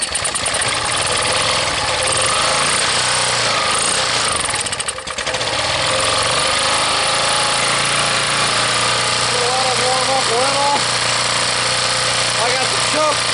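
A Harbor Freight generator engine cold starting with the choke on runs loud and steady, a buzzing mid-pitched drone with a brief dip partway through and faint voice-like chirps near the end.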